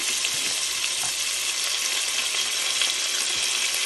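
Shrimp frying in a hot pan as masala spices go in, a steady loud sizzle with faint crackles and pops throughout, no voices.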